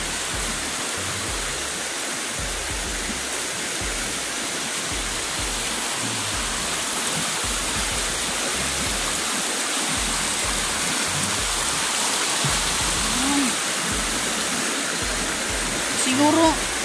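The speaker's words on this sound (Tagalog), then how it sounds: "Ngayon lang to, bumaha." Floodwater after heavy rain roars steadily as a broad, constant wash of noise, loud and close, with faint voices briefly surfacing near the end.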